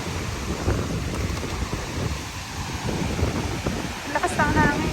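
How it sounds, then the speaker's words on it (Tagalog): Strong wind in New York roars and buffets the microphone steadily, with voices talking over it and a brief rising tone near the end. "Lakas ng hangin."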